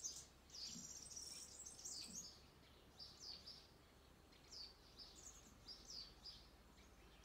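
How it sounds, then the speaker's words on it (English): Birds singing in a garden, with a scatter of high chirps and short trilled phrases recurring throughout, faint and somewhat distant over a quiet outdoor background. "I am listening to the birds in my garden."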